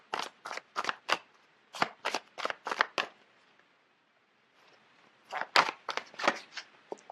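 Tarot cards are shuffled in crisp, rapid bursts of riffling and slapping, then a pause before another flurry of shuffling as cards are pulled, all close and clear with no talking.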